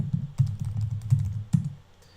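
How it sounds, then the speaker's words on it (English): Typing on a computer keyboard to enter a ping command: a quick burst of close key taps with a couple of heavier presses, fading out to quiet at the end. "I can type."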